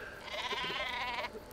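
A single wavering sheep bleat from the Worms Reloaded video game, close and clear, lasting just over a second before cutting off.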